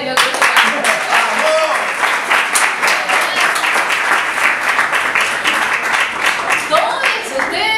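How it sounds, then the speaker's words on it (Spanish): An audience at a spoken-word poetry show claps loudly and steadily for several seconds, with a few voices rising over the applause. "Un aplauso para ustedes"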